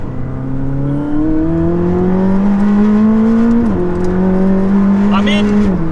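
A McLaren 600LT or Porsche 991.2 GT3 sports car accelerates hard from inside the cabin, its engine rising steadily through the gears with a brief dip at a shift, loud and continuous.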